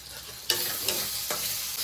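Tomatoes with spices frying in a pan, a close steady sizzle broken by two or three sharp scraping stirs, with no one talking.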